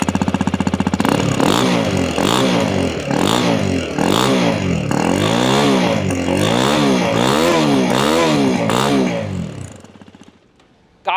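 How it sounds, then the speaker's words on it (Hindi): Hero Xpulse 210 dual-sport motorcycle revved repeatedly through its exhaust, each rise and fall of engine pitch clearly heard. The revs come close and loud in a steady series, then the engine cuts off near the end. "क्विकली आपको सुनाता हूँ इन दोनों मोटरसाइकिल्स की एग्जॉस्ट नोट को। शुरुआत करते हैं एक्सपल्स के साथ।"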